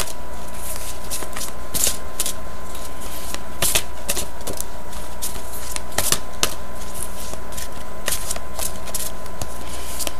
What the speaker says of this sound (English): I do live shuffles